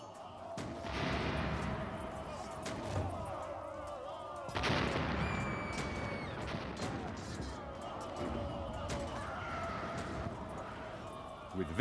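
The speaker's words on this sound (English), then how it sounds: "He aimed all his cannons at the same section of the wall." Ottoman cannons firing at a single section of city walls, heavy booming blasts with crashing debris, recurring across a long dense battle soundscape.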